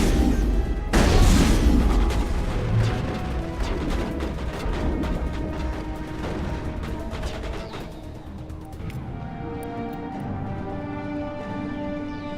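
Gunfire and booming blasts in the Mass Effect video game, a heavy crash early on followed by rapid repeated shots and rumbling that gradually fade under a steady game background.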